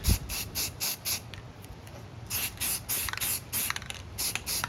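Spray paint hissing from an aerosol can onto thick wood, in about a dozen short close bursts of a second or less, with brief gaps between them and no talking.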